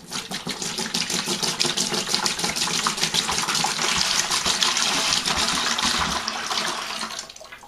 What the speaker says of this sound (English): I'm going to pour my pineapple juice.